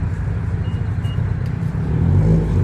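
An old-school BMW rolls into a car meet, its engine a steady low rumble that swells slightly as it gets closer, with no talk.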